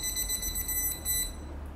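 A Cosmo Dr Revo 14000 high-voltage electric field therapy device gives a rapid series of high, pulsing electronic beeps that repeat steadily for about a second and a half before fading, with a faint low hum underneath.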